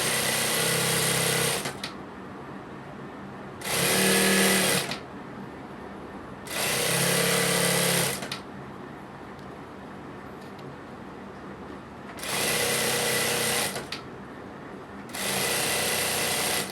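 A sewing machine stitches a kurti neck piece in five bursts of steady whirring, each lasting one to two seconds, separated by quiet pauses, close and clear.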